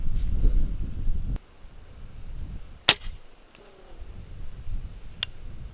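A Rossi Brawler pistol fires 300 Blackout subsonic ammunition outdoors, giving a few short, sharp cracks spaced seconds apart, the middle one loudest, over a low rumble of wind.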